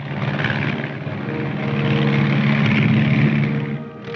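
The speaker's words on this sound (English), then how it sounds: "Among the aircraft used are the L-19, a standard observation plane." An L-19 observation plane, a 1950s US Army propeller aircraft, droning steadily past at close range, loud and continuous with a slight swell and fade near the end.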